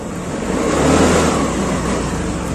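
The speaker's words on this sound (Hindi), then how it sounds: "रेस देने पे गाड़ी बंद हो जा रही है, रेस करने पे गाड़ी बंद हो जा रही है।" A Scooty Pep Plus scooter engine with a fault that makes it stall on acceleration revs in a steady mid-pitched drone, swelling briefly then settling, close and alone.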